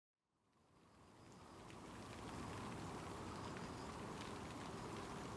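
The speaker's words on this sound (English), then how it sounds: "It sounds like a little bit of rain" Light rain falling during a hike in Taipei, a soft hiss that fades in and then holds as a steady, even patter with scattered droplet ticks, fairly faint and without talk.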